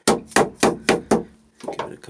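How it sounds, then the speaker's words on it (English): A leather-faced dead blow hammer taps a wooden wagon part into a tight fit, five sharp, evenly spaced knocks followed by two softer taps, close and loud with no talk. "Give it a couple little taps."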